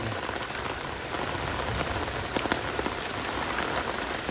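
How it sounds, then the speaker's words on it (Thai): Heavy rain with large drops pours down outdoors, a steady, loud hiss of water hitting surfaces, with sharper individual drop impacts popping through now and then, and no voices. "ตายแล้วฝนตกจ้า"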